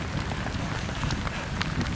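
Heavy rain pours steadily in the Colombian countryside, a dense even hiss of drops close by with no other sounds.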